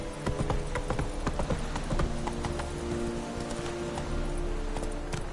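Roach, a horse in the video game The Witcher 3, gallops with rapid, continuous hoofbeats over a dense game soundscape, close and steady throughout.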